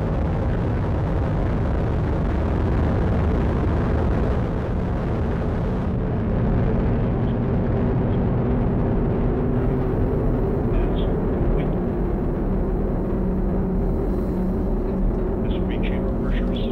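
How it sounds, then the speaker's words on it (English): A United Launch Alliance Atlas V rocket lifts off carrying an infrared satellite, its roar a constant, dense, rumbling wall of noise that fills the whole stretch, with a voice speaking faintly underneath. "We have ignition and liftoff of the United Launch Alliance Atlas V rocket carrying the 4th space-based infrared system"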